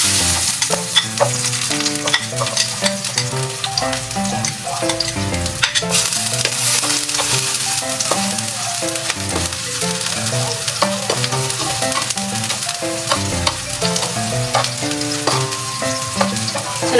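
Garlic fries in a hot pan, sizzling loudly and continuously as a utensil stirs and scrapes it in repeated strokes, with no talking.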